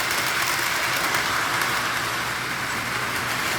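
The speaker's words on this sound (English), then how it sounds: "Man, this train wobbles." A Lehigh Valley engine hauling an oil train rolls along the track with a loud, steady rumbling roar and faint rattling, close by and continuous.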